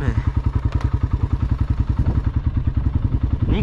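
A quad bike engine thrums in a steady, pulsing rhythm while riding through a field at around 50 km/h, loud and close throughout.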